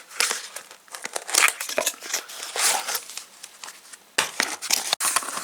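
Plastic packaging for a new Abus disc lock crinkles and crackles loudly up close in dense, irregular bursts, with a couple of brief pauses as it is pulled open.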